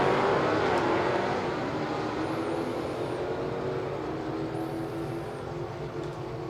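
Dodge Challenger and Hellcat launching side by side down a drag strip, a loud sustained engine roar that stays dense and steady before easing slightly toward the end.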